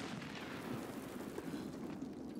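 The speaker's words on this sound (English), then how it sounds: "Grenade." Grenade blast in the video game Escape from Tarkov, heard as a dense low rumble with steady booming energy across the whole moment, loud and continuous rather than one sharp crack, with no talk over it.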